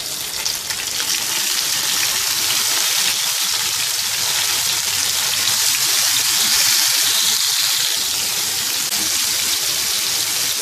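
Tomatoes frying with light-golden onions in a pan for tawa fry chana daal, a steady loud broadband sizzle with a hissing, watery crackle that holds evenly throughout, no voices.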